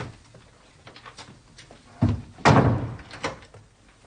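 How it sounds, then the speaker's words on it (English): Door being shut indoors in a period drama: a couple of solid thuds and a louder slam near the end, among soft shuffling movement noises. "And shut the door."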